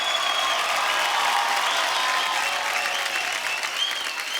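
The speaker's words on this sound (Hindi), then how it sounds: "जोरदार तालियां हो रहे हैं।" A studio audience on the Kapil Sharma Show, a Hindi TV comedy show, gives guests a long, even round of thick applause that stays loud and unbroken throughout, with faint crowd noise underneath.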